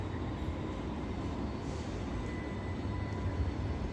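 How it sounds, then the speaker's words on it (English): A tram arrives at Circular Quay in Sydney's CBD, a steady low rumble of wheels and motor with faint squeals on top, continuous and fairly close, with no voices. "And here's the tram, Circular Quay"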